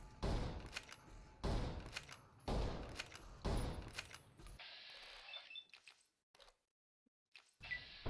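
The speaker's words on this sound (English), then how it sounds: "Well, I meant to shoot for the chest, but here we are." Gunfire in Fallout New Vegas: four sharp, loud shots at roughly even intervals, each followed by a short mechanical reload clatter, then a brief quiet stretch.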